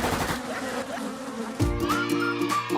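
Cartoon bees swarm around a beehive with a steady, loud insect buzz that keeps going throughout, with tonal music and effects layered over it in the second half.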